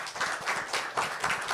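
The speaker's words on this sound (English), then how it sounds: "A round of applause." Audience clapping at an international interior design awards finale, a short burst of steady applause filling the room with no speech over it.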